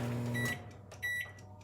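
A microwave oven hums steadily in a kitchen for about half a second, then stops, followed by a few soft clicks and light handling clatter nearby, with no talking.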